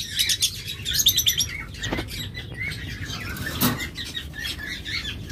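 Pet budgerigars and lovebirds in a cage chirp and tweet in quick, overlapping bursts, close and lively, with a couple of brief wing flutters and no talk.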